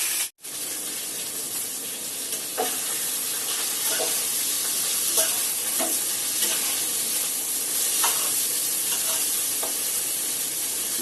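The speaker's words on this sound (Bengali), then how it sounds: "এখানে একেবারে মাথাও ভাজছি আর আলুও ভাজতে দিয়ে দিয়েছি, একসাথেই করে নেব, যেহেতু কড়াইটা বড় আছে ওই জন্য।" A fish head and potato pieces fry together in hot oil in a large wok. The close, steady sizzle is broken by scraping stirs and occasional spatters, with no talking.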